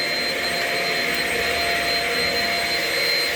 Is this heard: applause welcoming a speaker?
no